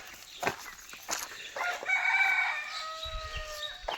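A rooster crows in a traditional village: one drawn-out, moderately distant cock-a-doodle-doo in the second half, preceded by a few clucks and rustles, with no talk.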